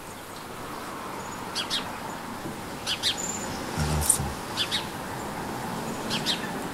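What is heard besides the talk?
sparrows chirping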